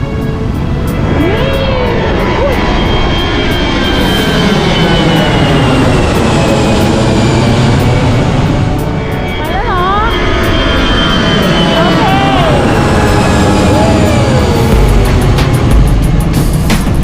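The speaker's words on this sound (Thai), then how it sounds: "มาดูเครื่องบินก็ไม่ลงหน้าหาด" A propeller airplane flies over a beach where heavy, rough surf pounds the shore, its engine drone rising and falling under constant loud wave noise.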